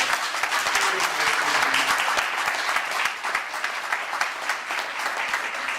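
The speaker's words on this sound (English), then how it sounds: "let's give everyone an applaud to everyone in here" An indoor audience at a Walk to End Alzheimer's event applauding together, steady dense clapping that stays loud for the whole stretch and eases slightly toward the end.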